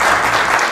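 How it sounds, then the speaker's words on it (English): An audience at a city gathering in Paterson, New Jersey breaks into a brief, dense wash of applause, loud and close, with no pause. "you can clap for that"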